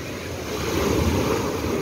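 Loud sea surf rolling onto a beach at a resort, a steady broadband roar of breaking waves swelling slightly louder midway, with wind buffeting the microphone and no talking.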